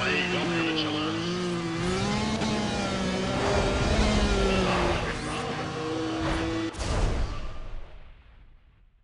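Race car engines rev at the start of a Need for Speed ProStreet drag race, rising and falling whines with revving surges under continuous commentator talk, cutting off abruptly before fading out.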